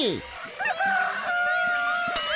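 A jungle fowl in a forest gives a single drawn-out crowing call, fairly close and clear against a quiet background.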